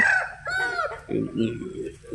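Chickens on a farm cluck and call up close in a brief burst, their voices layered over a person speaking.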